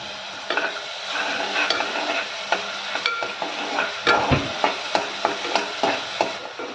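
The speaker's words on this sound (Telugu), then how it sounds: "ఈ పేస్ట్ వేసి పచ్చివాసన పోయేదాకా చక్కగా ఫ్రై చేసుకోవాలి" Garlic and onion paste frying in hot oil for a Hyderabadi-style goat intestine curry: a constant sizzle broken by repeated spatula strokes, close and fairly loud, with no talking.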